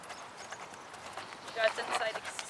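Hooves of a Standardbred horse walking during a schooling session, soft clip-clop footfalls at moderate distance with a few sharper strikes near the end, under a faint voice.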